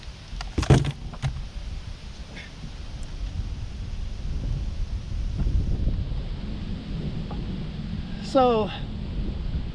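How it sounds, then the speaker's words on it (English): Heavy hurricane wind buffeting a microphone out on Lake Lanier during bass fishing, a steady low rumble with a few sharp knocks near the start and someone speaking. "we got heavy wind blowing out of this hurricane, making fishing difficult"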